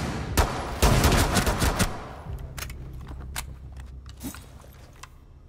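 Pistol gunfire in the video game Rainbow Six Siege, a rapid loud burst of close shots followed by a few scattered sharp cracks and quieter game sounds.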